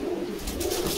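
Pigeons coo steadily and close by at a pigeon loft and market in Bogura, with low, continuous throaty calls and no talk.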